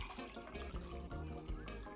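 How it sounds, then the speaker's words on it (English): A small amount of herbal drink from a Bolingo Balance Herbal Combo is poured out, a close, brief liquid splash and gurgle lasting about two seconds over faint background sound. "I'm just gonna pour a little bit of this out"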